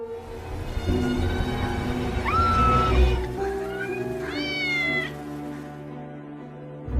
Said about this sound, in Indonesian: siluet itu adalah 3 kucing yang gemoy